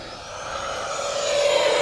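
An F-16 Falcon 80mm RC electric ducted fan jet flies past with a steady whooshing whine that swells louder and rises in pitch toward the end, heard alone without talk.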